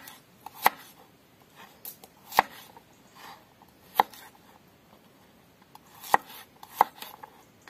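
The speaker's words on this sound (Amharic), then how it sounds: "ነጭ ሽንኩርቱንም በተመሳሳይ እንደዚህ ለሶስት ቦታ ነው የምቆርጠው፣ ተለቅ ተለቅ ያለ" Knife chopping garlic cloves into large pieces on a board: five sharp, distinct chops spaced irregularly over several seconds, close and clear against a quiet kitchen background with faint rustling between strikes.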